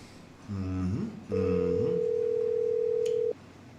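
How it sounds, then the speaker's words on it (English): Telephone ring tones on a call line, a wavering two-part tone followed by a long steady single tone lasting about two seconds, clear and alone with no talk. "Is this thing ringing? Yes, it is ringing, BJ."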